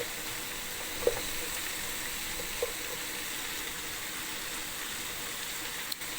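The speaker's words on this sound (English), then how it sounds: "So I'm gonna let this fry for about 5 minutes before I add in my other ingredients." Carrots and potatoes fry on high heat in a pot for minestrone, giving a steady, fairly soft sizzle with a few faint clicks and no voices.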